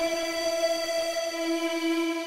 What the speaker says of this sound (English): there is a huge process just to make this fuzziness we can hear in the sound